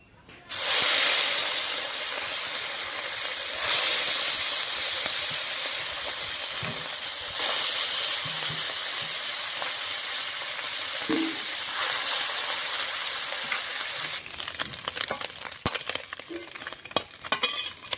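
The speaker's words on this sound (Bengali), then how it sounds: "মাছটা কড়া করে ভেজে নিচ্ছি, নামিয়ে নেব।" Small puti fish fry crisp in hot oil, a loud steady sizzling hiss filling the whole stretch after a brief quiet start, with occasional faint clinks and a crackling flare near the end.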